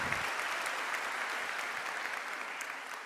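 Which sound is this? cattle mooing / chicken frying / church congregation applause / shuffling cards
church congregation applause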